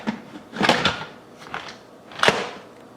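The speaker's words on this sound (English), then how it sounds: "So let's go ahead and put the lid on right now." Plastic lid of an AICOOK electric pressure cooker set on and shifted into place, a few close clattering knocks and scrapes with one sharp clunk near the end.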